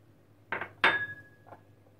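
A utensil clinks against a bowl while stirring yeast into milk for a potato poğaça dough, two or three short bright knocks with a ringing tone, close and quiet, with no voices.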